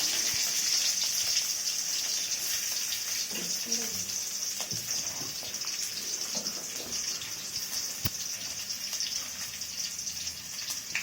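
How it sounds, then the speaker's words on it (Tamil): Ginger and green chilies sauté in a hot kadai for roadside-style mint chutney, giving a continuous bright sizzle with some stirring clatter and one sharp tap, close by. "இஞ்சி சேர்த்துக்கலாம் பச்சை மிளகா சேர்த்துக்கலாம் நல்லா வதக்கி வச்சுக்கலாம்"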